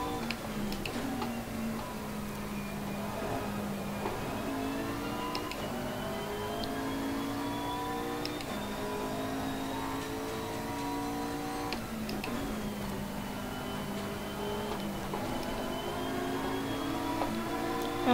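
A V8 race car engine in the racing game Assetto Corsa Competizione revs hard and rises through the gears. Each climb drops sharply at a shift, with a steady, loud, close mechanical whine and no voices.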